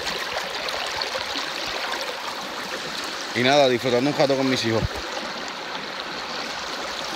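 A river running high after Hurricane Maria rushes steadily as a broad, loud wash of water, with someone speaking briefly over it midway.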